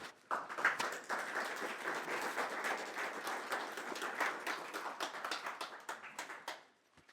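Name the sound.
audience applause after a talk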